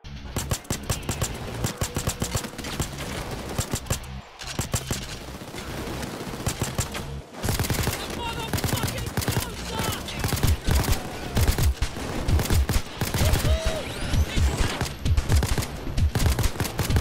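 Two guns blaze in the heist game Payday 2 in rapid, continuous bursts of close, loud shots stretching on for many seconds, with short pauses between volleys.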